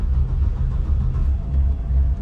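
A boat's second outboard motor running just after starting, a loud, steady low rumbling drone close by on the Chesapeake, with no voices.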